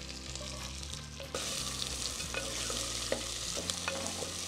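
Oil sizzles and crackles steadily as urad dal fries in tempering oil in a pan, with a few light scrapes of stirring over the frying.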